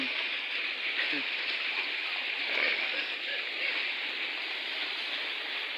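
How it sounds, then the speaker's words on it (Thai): Steady rain falls in a continuous, even hiss around dawn, holding at moderate loudness throughout with no clear voices. "ฝนมาก็สดชื่น ร่มเย็น"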